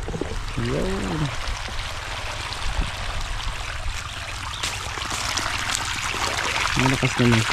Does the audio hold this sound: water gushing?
yes